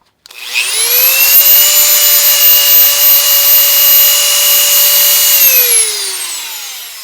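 A Hart rotary tool runs at speed with a loud, steady high-pitched whine that starts suddenly, holds for several seconds, then winds down as the motor slows, with no voices.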